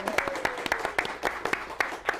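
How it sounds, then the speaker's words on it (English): A studio audience at a live local television show claps in uneven bursts of sharp hand claps, moderately loud and fairly close, lasting a couple of seconds. "Give a round of applause, everyone."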